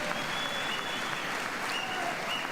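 Sustained audience applause fills a chamber of Congress for the First Lady, a dense, steady wash of clapping from a large crowd, heard at a distance.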